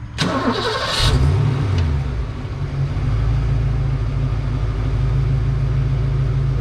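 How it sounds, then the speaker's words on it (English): A Ford Mustang Foxbody engine cranks briefly, catches with a loud roar and revs, then settles into a steady, close, even idle that continues alone to the end. "Go ahead, start the car up."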